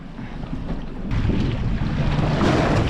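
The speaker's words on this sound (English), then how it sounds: "It'd be beautiful if this wind died down." Strong wind buffets the microphone at sea while fishing from a boat off Browns Mountain, a steady broadband roar with water sloshing beneath that grows louder after the first second and holds without talk.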